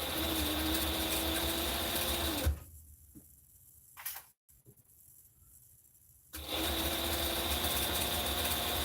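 Sewing machine stitching a garment, a steady whirring hum that runs for about two and a half seconds, stops for several seconds of near quiet, then resumes.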